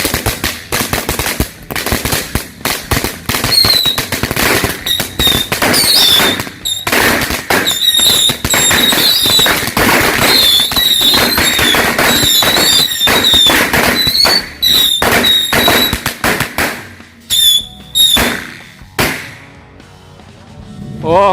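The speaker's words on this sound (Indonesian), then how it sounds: "Dari pesawat versus mercon roket." Firecrackers and rocket fireworks set off during a Ramadan afternoon outing burst in a dense, loud, continuous barrage of sharp cracks and whistling rocket squeals, thinning out toward the end.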